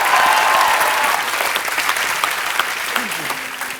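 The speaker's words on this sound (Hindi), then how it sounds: "जोरदार तालियां एक बार।" Studio audience at a comedy talk show bursts into loud, dense applause that starts at full strength and gradually thins over a few seconds.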